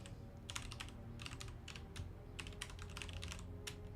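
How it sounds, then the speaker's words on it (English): Rapid typing on a computer keyboard, clusters of quick clicky keystrokes in bursts with short pauses, close and faint over a low background hum. "Nope, I think I mashed the keyboard."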